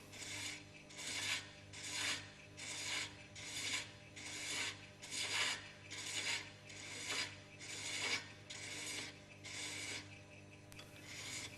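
Hand thread cutter cutting a thread along a spigot, about a dozen evenly spaced rasping strokes in a steady back-and-forth rhythm, close and quiet over a faint hum, with no voices.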